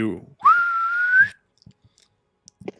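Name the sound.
sharp whistle imitated by voice to call a horse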